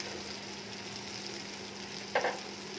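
Spices sautéing in a pan, a faint steady sizzle with one brief scrape of a spoon.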